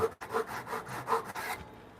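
Hand saw cutting a diagonal timber frame brace at 45 degrees, several rasping back-and-forth strokes through wood at close range, ending abruptly, with no voices.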